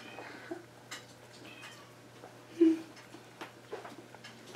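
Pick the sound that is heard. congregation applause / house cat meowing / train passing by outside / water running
house cat meowing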